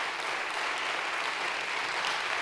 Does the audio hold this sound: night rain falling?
no